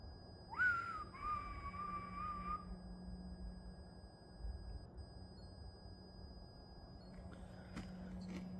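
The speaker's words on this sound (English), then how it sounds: "Shall I whistle again?" A person gives one clear whistled call, a rising note then a held tone for about two seconds, in a quiet, low-humming space, followed by silence and faint clicks.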